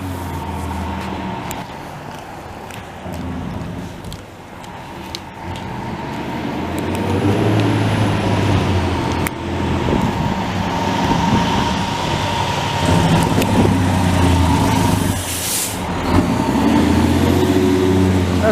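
A fire engine pumper truck rumbles past on a city street, its low engine noise swelling and staying loud for several seconds, with a brief air brake hiss.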